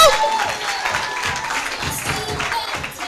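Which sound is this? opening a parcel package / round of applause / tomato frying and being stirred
round of applause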